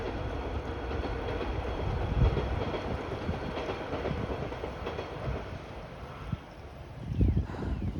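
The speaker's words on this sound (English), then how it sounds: "here comes another train going from Warden to Victoria Park." A Toronto subway train runs between Warden and Victoria Park stations, a steady broadband rumble lasting the whole time, with faint rail rattle and a couple of louder low thumps near the end. Heard from a wooded park, no talking.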